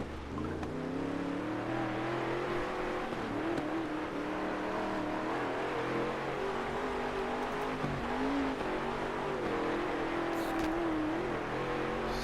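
A dirt racing car engine from World of Outlaws: Dirt Racing 24 drones steadily on practice laps, holding a high, buzzing pitch that rises and dips slightly with throttle, continuous and alone.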